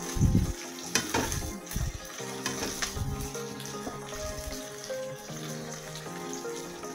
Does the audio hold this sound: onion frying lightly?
yes